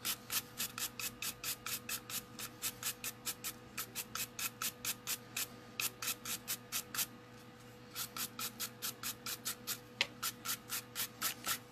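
A smoothing buffer rubs over freshly filed acrylic nails in quick, even back-and-forth strokes, a dense steady rhythm of soft scratchy swishes up close with one short pause partway through.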